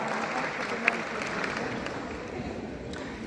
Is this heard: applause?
yes